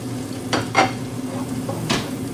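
Ginger stirred into crab frying in butter in a pan, a few soft scraping stirs over a steady low sizzle, close and fairly quiet.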